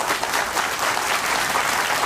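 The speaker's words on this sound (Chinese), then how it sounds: "掌声给张理事长好不好？" An audience applauds a seafarers' union chairman at a union meeting in Kaohsiung, a steady wash of clapping from a crowd that continues without a break, with no voices heard.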